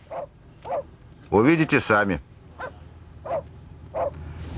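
A dog barks in short, evenly spaced yips amid a bustle of people on a Marquesas Islands boat or shore, with a burst of nearby talk in the middle of the barking.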